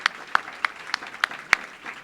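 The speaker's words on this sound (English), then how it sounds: "And I just want to start by giving them all a round of applause" A white coat ceremony audience gives a round of applause, steady clapping from a crowd with several louder claps cutting through at regular intervals.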